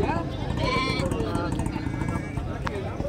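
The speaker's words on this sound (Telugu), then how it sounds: "కాశ్మీరీ గొర్రెలు" Kashmiri sheep bleat at a busy Sunday livestock market, with drawn-out calls over constant crowd chatter and nearby voices.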